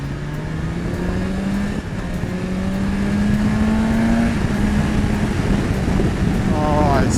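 A 2020 BMW S1000XR motorcycle accelerating hard into its power band, the engine note climbing steadily in pitch through the rev range under strong wind noise, heard close from the rider's position.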